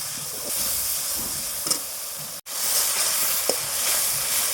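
Whole spices with salt and white cumin sizzle steadily in hot oil in a pan, a continuous loud hiss with a brief cut midway and occasional soft scrapes of stirring.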